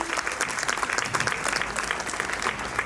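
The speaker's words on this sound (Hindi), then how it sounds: "सम्मानीय राज दीदी का स्वागत करें फिर से तालियों से" An audience at a Shiv Jayanti celebration claps steadily, a dense, lively patter of many hands that stays at even strength from start to finish.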